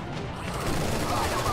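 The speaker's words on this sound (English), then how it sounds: "So we do have Vine now with heavy machine gun." Sustained heavy machine gun fire in the Strain Tactics video game, a steady dense rattle of rapid shots that grows louder partway through, with no talking over it.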